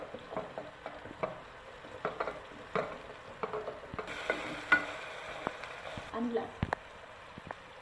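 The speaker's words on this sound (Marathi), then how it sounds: "आता आपण लसूण टाकून घेऊयात ही पण फोडणीच आहे" Garlic and grated carrot fry in hot tempering oil for a khichdi, giving a steady crackling sizzle broken by frequent sharp spoon-stirring clicks and scrapes, close and moderately loud throughout.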